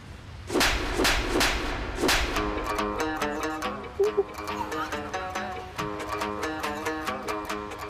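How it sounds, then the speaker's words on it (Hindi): Sharp whip-like slap hits land early in a Hindi TV sitcom scene with a traffic police constable, a few crisp smacks over dramatic background music that carries on afterward. "आपने मुझे थप्पड़ मारा?"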